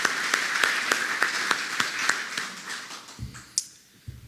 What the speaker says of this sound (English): So I'm going to give him a round of applause.